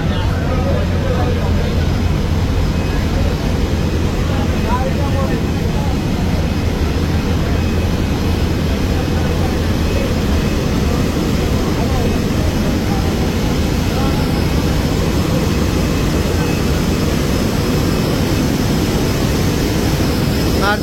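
The engine room of the MV Parabat-11 river launch gives off a loud, unbroken mechanical drone with a deep steady hum, while a voice talks over it.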